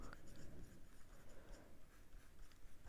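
A pen or marker scratches steadily across paper while a polynomial expression is written out, a faint, continuous close scraping with short strokes and no voices.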